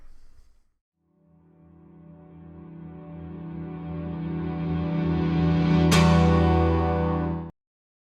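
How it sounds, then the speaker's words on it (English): A piano chord swells up gradually in reverse, its reverb growing louder and brighter before a sharp attack and abrupt cutoff near the end. "I click on my reverse reverb button, and this is what I get."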